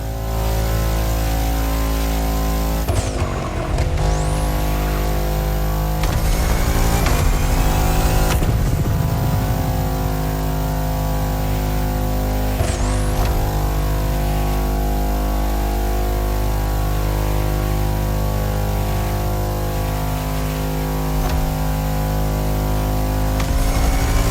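Cars driving in the racing game The Crew Motorfest, with a loud continuous engine drone and several sweeping rises and falls in pitch as vehicles rev and pass.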